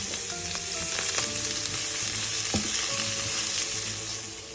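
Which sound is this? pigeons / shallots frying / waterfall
shallots frying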